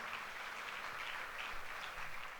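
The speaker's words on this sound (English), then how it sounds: "yes, give them a round of applause." Steady applause from a gala audience at a charity fundraising dinner, a continuous wash of clapping held at a moderate, even level throughout.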